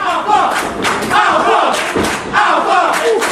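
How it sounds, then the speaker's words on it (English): Crowd at an IWA Intensity wrestling event cheering and shouting in loud, surging waves, with a few thuds mixed into the steady roar. "Crowd here at IWA Intensity feeling Alpha Zero"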